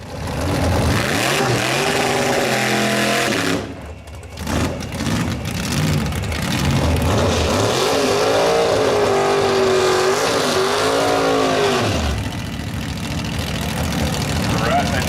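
A supercharged drag race car with a large hood-mounted blower runs at a drag strip as a fresh new build on its first pass, its loud engine roaring and revving throughout with shifting pitch, fading slightly near the end.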